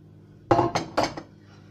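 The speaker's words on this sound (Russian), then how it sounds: "просто перемешиваем мы с вами вот эту смесь" A carrot casserole mixture bound with egg is stirred in a bowl, giving three or four close clattering knocks of a utensil against the dish in quick succession, then quiet.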